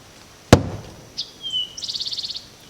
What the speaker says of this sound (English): we're going to use the magic hammer again